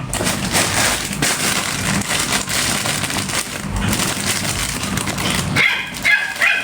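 A dog barks loudly and repeatedly near a home kitchen, sharp yips and barks over a constant noisy clatter, ending with a brief high whimper.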